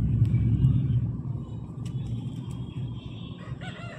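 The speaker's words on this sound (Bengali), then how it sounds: "পরের মোরগটা দেখছেন, অনেকটা হাইট" A rooster crows amid a busy outdoor scene with a steady rumble of traffic or engines underneath and a few faint distant calls on top.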